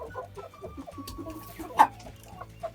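Dirty white Leghorn chickens cluck softly and repeatedly in a coop, a steady close chatter of short calls with one louder squawk partway through.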